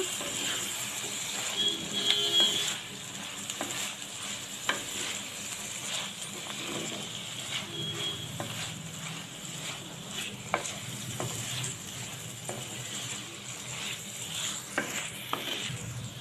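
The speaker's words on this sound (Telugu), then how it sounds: "వీటిని ఇందులో వేసేసి ఒక పది నిమిషాలు ఫ్రై చేసుకుందాం కాస్త పచ్చివాసన పోయేలాగా" Soaked dried anchovies frying in a pan, a steady sizzle and hiss with occasional stirring scrapes and clinks of a utensil against the pan, close and continuous.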